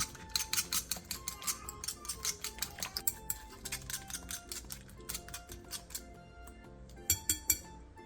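Spoon or utensil clinking and scraping against a bowl while chopped ingredients, two eggs, salt and minced garlic are mixed together, a steady run of quick, close, light clicks and taps with no talk.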